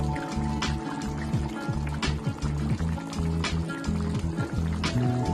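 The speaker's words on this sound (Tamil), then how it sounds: "கடைசியா இதுல 1 ஸ்பூன் நல்லெண்ணெய் சேர்த்துக்கிறேன்." A spoonful of sesame oil is poured into simmering garlic curry (poondu kuzhambu), giving a soft, steady liquid trickle over a low background hum.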